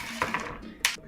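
Toasted pumpkin seeds, crisp and coated in olive oil, scraped and stirred around a pan: a few quick, close scraping and clinking strokes over about a second, no talk.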